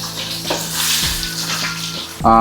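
Onions and green chillies frying in hot oil in a pan, a loud, close sizzle with a few clattering stirs and a sharp burst at the end.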